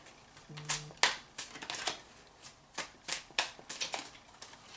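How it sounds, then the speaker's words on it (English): Tarot cards are shuffled by hand in a series of quick riffling bursts, close and fairly soft, with a short tone early on. "All right, so 3 shuffles, 1, 2, 3."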